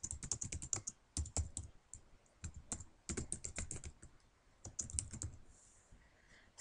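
Bursts of close, quiet keystrokes on a computer keyboard while typing a tagline in GIMP, clustered in quick runs separated by short pauses, with no talking.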